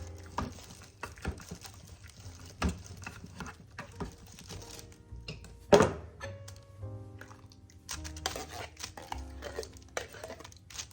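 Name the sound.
cutting canned apples into smaller pieces in the can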